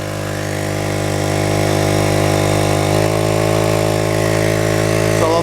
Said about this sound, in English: I'm going to put our throttle up to the higher level.